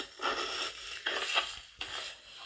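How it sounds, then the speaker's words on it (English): Hiking boots walking in a stock sound effect: three or four soft, crunchy footsteps at an even pace, fairly quiet and dry, with no voices. "I'm going to add hiking boots walk"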